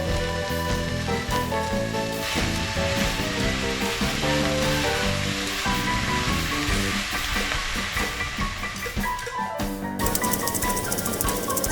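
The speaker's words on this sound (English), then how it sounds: "Give everything a good stir and let it cook for several minutes so the cauliflower heats through" Cauliflower rice being stirred and cooked in a pan, a steady, dense sizzle and crackle throughout with occasional scraping, loud and close with no talking.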